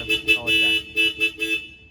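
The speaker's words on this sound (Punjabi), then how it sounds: "ਲਾਤੇ ਲਾਤੇ ਦੇਖੋ ਹਾਰਨ ਵਜਾ ਵਜਾ ਕੇ ਦੇਖਦਾ" A newly fitted motorcycle horn is tested at an auto service shop, sounding a series of short, bright electronic toots, several quick bursts in a row, loud and close.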